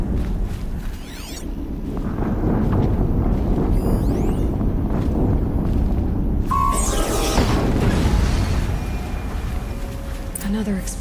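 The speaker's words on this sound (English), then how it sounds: "Another explosion." Explosions from the Horizon Zero Dawn video game rumble as a loud, sustained low boom with a burst of crackling debris midway, set among ancient vessels during exploration, while game sound and speech run beneath.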